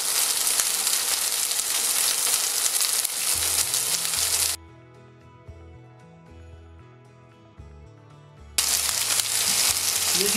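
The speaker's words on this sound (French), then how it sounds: "N'hésitez pas à bien faire griller les os." Chicken bones browning in a pan give a loud, dense, steady sizzle that drops away for a few seconds of music midway, then returns just as strongly.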